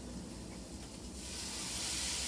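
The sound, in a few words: chili powder sizzling in a pan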